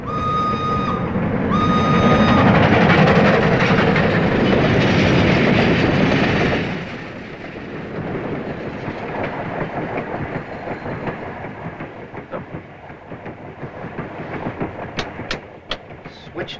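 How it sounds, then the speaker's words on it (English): A European passenger train rolls along the rails with loud rumbling and rhythmic clickety-clack, a heavy roar at first that eases into quieter steady rattling and clicking wheels, with no speech. "Nothing unusual for a European train."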